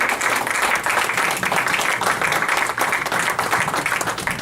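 Audience at a mushaira poetry gathering applauding in a dense, even wash of clapping that holds steady throughout.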